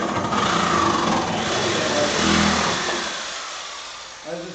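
Electric motors on a competition robot rev loudly and steadily as the throttle trigger is pulled, a dense whine that sustains, eases off, and ends with a short bump.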